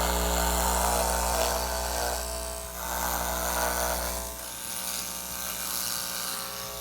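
Barbasol pro hair clipper trimming hair, a close electric buzz with a low motor hum that drops partway through, rising and dipping as it passes back and forth, no speech.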